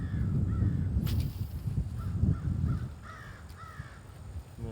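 Crows cawing outdoors in nature, several harsh caws at irregular intervals from a moderate distance over a steady low rumble of wind and background noise.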